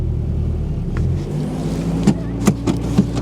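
A 1989 Corvette convertible, fuel injected, idles with a steady low rumble as it is put in gear and the clutch eased out, with a few sharp clunks and knocks near the end.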